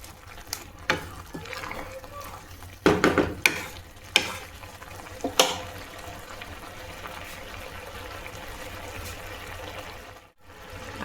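Carrot halwa with jaggery is stirred in a pan, a low bubbling and sizzling bed broken by several scraping, clattering strokes of the spoon against the pan.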